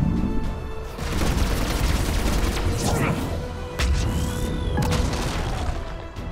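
Grenades burst in a Mass Effect 3 Legendary Edition firefight, heavy booms rolling through a dense wash of gunfire and battle noise.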